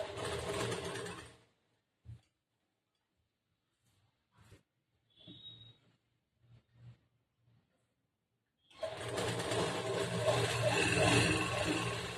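Domestic sewing machine stitching a churidar top: a steady, close whirring run at the start and a longer continuous run at the end, with quiet gaps of small clicks and handling noises in between.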